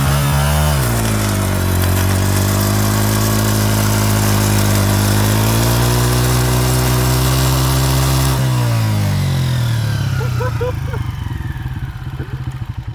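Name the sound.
motorcycle with gate-chain drive revving, tire digging into dirt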